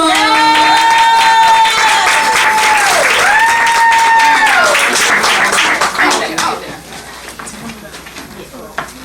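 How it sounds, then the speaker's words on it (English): Loud applause from an audience, dense clapping that swells then gradually fades, with a whistling tone and cheering voices early on. "can you guys clap it up for Miss Tito?"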